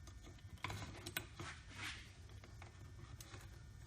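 Two furniture assembly parts slide into place, giving faint scraping and mechanical clicks, with a few brief knocks and a soft sliding rasp over low background hum.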